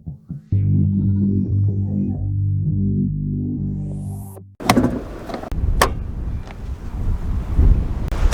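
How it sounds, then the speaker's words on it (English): Heavy wind buffets the microphone in loud, rumbling gusts after the steady engine drone of a 2022 Ford Transit van cuts off, with a few sharp knocks mixed in. "Man, it is super windy."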